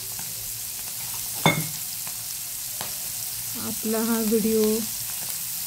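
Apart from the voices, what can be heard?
paneer tikka pieces frying in oil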